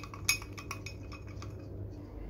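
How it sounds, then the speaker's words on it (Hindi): Spoon clinking against a cup or bowl while stirring instant coffee into milk for a coffee cake, a few light metallic taps near the start giving way to softer scraping, close and fairly quiet. "दूध में ये जो हमने 4 टीस्पून कॉफ़ी ली थी इसको डाल के तो अच्छी तरह से मिक्स करके तो साइड पे रख देंगे इसको"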